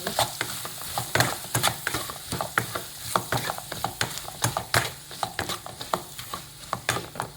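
Food being stirred in a pan over a high flame: a steady run of close scraping and clinking strokes over a constant frying sizzle, with no voices.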